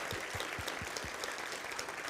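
A conference audience applauds after a programming lecture in a room, the clapping steady, broadband and moderately distant, lasting about two seconds with no talk over it.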